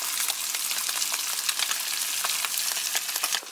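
A walleye fillet seasoned with Italian seasoning sizzles steadily in a frying pan, a constant close hiss with scattered sharp pops and crackles throughout.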